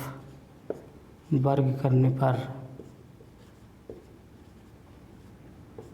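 Writing on a board while working a maths proof that a square root is irrational: soft scratchy strokes beneath a voice explaining the steps.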